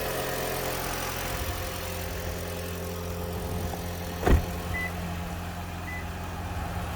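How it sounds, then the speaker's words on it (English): A Toyota Auris Hybrid 1.8 petrol engine idles smoothly after a service, with a steady low hum and one brief louder knock partway through. "Started up the engine, running nice and smooth."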